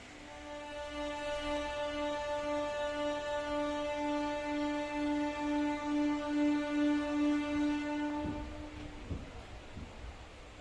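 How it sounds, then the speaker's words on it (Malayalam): A long, steady electric horn of a MEMU train blares for several seconds, then cuts out, leaving rumbling clatter and the low noise of the train pulling away from the station. "നമ്മുടെ ട്രെയിൻ കൃത്യം ഏഴ് ഇരുപതോടുകൂടി തന്നെ സ്റ്റേഷനിൽ നിന്നും പുറപ്പെട്ടു"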